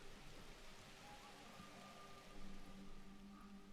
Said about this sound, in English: Still love the rain effects.